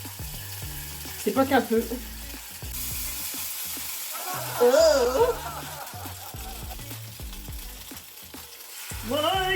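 A crêpe fries in butter in a pan, giving a steady sizzling hiss with clattering and scraping, while a voice speaks briefly over the cooking.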